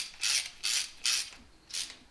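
Ratchet wrench tightening bolts during an LS 5.3 engine swap into a Sierra, four short bursts of rapid clicking ratchet strokes close by, separated by brief pauses, no talk.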